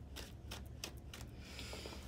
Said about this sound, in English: Shuffle that deck one more time before I put it down.